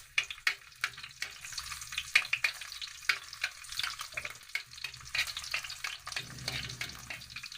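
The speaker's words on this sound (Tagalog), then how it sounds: "start na tayo sa pagigisa. Bawang." Garlic sautés in a pan, crackling and popping close up with repeated scraping, stirring strokes in an uneven rhythm over a steady sizzle.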